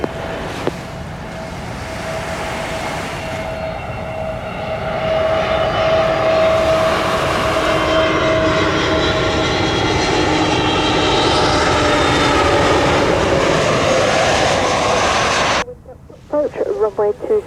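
Fixed-wing airliner landing on runway 27 at Gibraltar, a loud, steady jet engine roar that swells and holds close, then cuts off abruptly to quieter background with brief noises.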